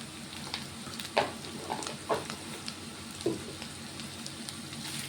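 Bitter gourd slices fry with coriander powder in a pan, a soft, steady sizzle broken by a few spatula scrapes and taps as the pieces are stirred.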